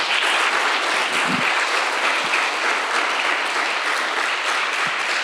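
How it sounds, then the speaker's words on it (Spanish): A church congregation claps loudly and steadily during a worship service, a dense, even wash of applause filling the room from start to finish with no voices standing out. "Dele un fuerte aplauso al Señor."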